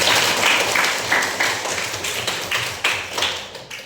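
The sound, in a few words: applause in a classroom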